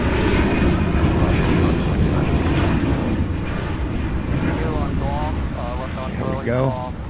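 An airliner roars during takeoff at Louisville's SDF airport, a loud broad continuous engine rumble heard from nearby, with a radio voice crackling over it toward the end.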